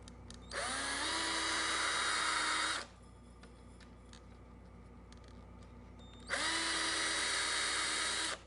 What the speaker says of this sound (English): You need a flexible shaft for your drill because the drill by itself won't go into that area.